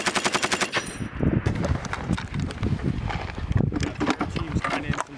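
Machine gun fire during Marine battle drills, rapid bursts of sharp cracks close by, separated by short gaps, with shouted voices mixed in between the volleys.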